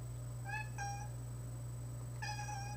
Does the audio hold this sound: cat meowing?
yes